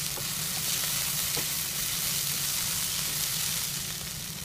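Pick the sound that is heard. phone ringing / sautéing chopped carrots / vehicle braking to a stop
sautéing chopped carrots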